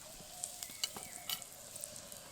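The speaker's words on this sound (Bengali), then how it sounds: "তেলের মধ্যে দেব সামান্য পরিমাণ হিং" A pinch of asafoetida dropped into hot mustard oil in a kadai for a tomato chop filling, giving a soft, steady sizzle with scattered light crackles and faint clinks, no speech.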